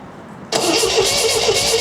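An MGB engine under restoration turns over on its starter: a sudden loud onset after half a second of quiet, then a steady, close churning with a faint repeating pulse that carries on to the end.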